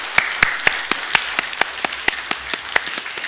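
A church congregation applauds during a Sunday service, producing steady, fairly even claps at a moderate pace that sound close and lively, with no voices over them.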